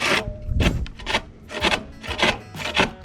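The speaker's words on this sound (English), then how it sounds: "It's not the greatest saw in the world." Hand saw cutting wood during a DIY house renovation, rhythmic rasping back-and-forth strokes about twice a second, close and fairly loud, with no talking.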